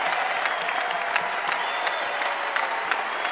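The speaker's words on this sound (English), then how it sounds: "the crowd on their feet" A basketball crowd on its feet applauds steadily for a senior player, dense clapping with some cheering, loud and continuous throughout.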